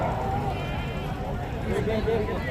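Goats bleat amid the bustle of a crowded livestock market in Dera Ghazi Khan, short bleats rising over a constant din of nearby voices and background chatter.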